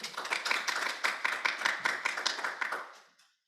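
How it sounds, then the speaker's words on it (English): A small group in a room claps at the close of a discussion session, with distinct overlapping hand claps in a quick, uneven rhythm that is fairly faint and tapers off to silence after about three seconds. "it sounds like we have more than 2 people in the room now from the applause"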